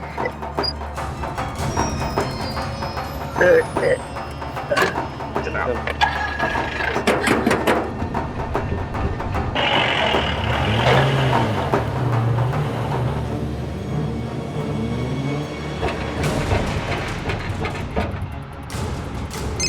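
A tempo truck loaded with old furniture pulls away from a checkpoint, its engine giving a steady, close mechanical rumble with rattling that holds for the whole stretch, with no voices.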